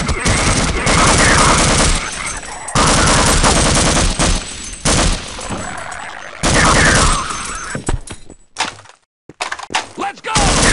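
Loud bursts of automatic gunfire in the video game Half-Life: Opposing Force, arriving in several separate volleys with short gaps, followed by sparser, choppy shots and brief silences near the end.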